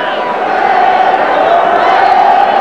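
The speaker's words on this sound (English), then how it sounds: "the crowd buzzing with controversy" A stadium crowd at a 1980 rugby league Premiership final between Bradford Northern and Widnes keeps up a loud, steady buzz throughout, with a commentator's voice over the top.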